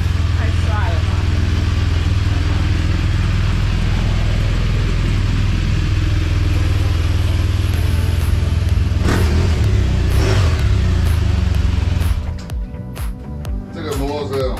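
A motorcycle engine revs and drones loudly for a long stretch, with people talking over it, before the noise drops away near the end.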